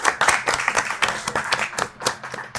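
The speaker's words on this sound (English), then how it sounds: "Let's get a round of applause for that." Scattered audience clapping at a live show, a brief round of applause from a modest crowd, fairly close and irregular.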